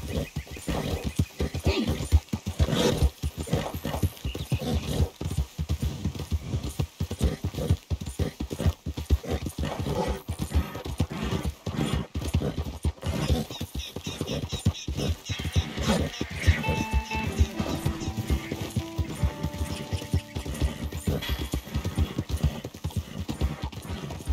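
Horse hooves in the Red Dead Redemption II video game clip-clop in a fast, steady rhythm for about 24 seconds, continuous and fairly close, with a brief whinny-like sound and other game noises mixed in.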